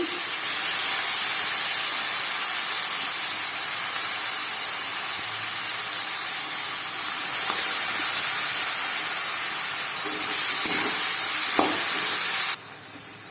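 Vinegar hits homemade dry chilli chicken in a hot pan, setting off a loud, continuous hiss and sizzle that grows stronger partway through, with a few scraping stir sounds before it drops off sharply.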